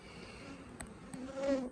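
Bees buzzing in a Langstroth hive brood box at an apiary, a faint steady hum with a louder passing drone swelling near the end, plus a couple of light clicks.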